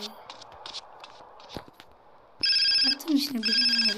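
A phone rings in GTA San Andreas, its bright repeating electronic ringtone starting partway through, loud over faint game background noise and footsteps.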